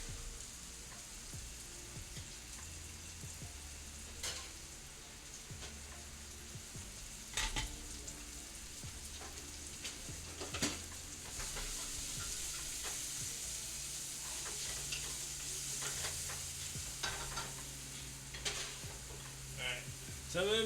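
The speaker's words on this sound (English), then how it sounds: "Sizzle, sizzle." Garlic and pork sizzling and frying in a pan while being stirred, a steady crackling hiss with scattered pops and scraping clatters, close and alone without talk.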